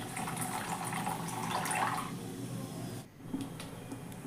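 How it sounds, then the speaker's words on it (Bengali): Tamarind water poured into a pan of spluttering mustard seeds, a steady liquid hiss and splash lasting several seconds, briefly dipping near the end before resuming. "আমি তেঁতুল গোলা জল দিয়েছি"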